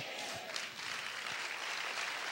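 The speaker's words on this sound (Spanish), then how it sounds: "Dale ese fuerte aplauso al Señor" A church congregation claps in sustained, dense applause that fills the whole stretch at a moderate distance, with no speech over it.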